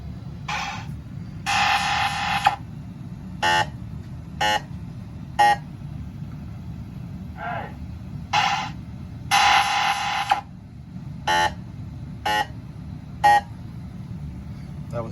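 A Williams Comet pinball machine running its sound test, giving a series of short electronic beeps and tones alternating with longer bursts of buzzing chime, separated by brief pauses over a low background hum.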